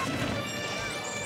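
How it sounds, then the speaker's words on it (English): An up smash lands in a Super Smash Bros match, a heavy crashing strike on Sheik that is buried in dense, continuous game noise with no clear separate onset. "It's one of the strongest up smashes in the game"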